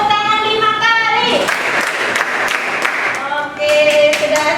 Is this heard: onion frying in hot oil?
no